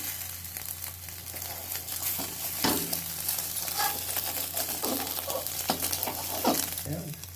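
Egg sizzles steadily in hot oil in a wok, with scraping stirs and occasional clanks of a spatula against the metal.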